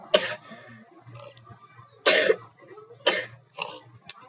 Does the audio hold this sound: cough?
yes